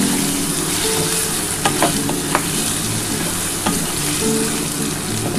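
Cut taro (kochu) and potato pieces frying in a pan, salted, for a hilsa curry: a loud, continuous sizzle with occasional scraping stir strokes, with no voices.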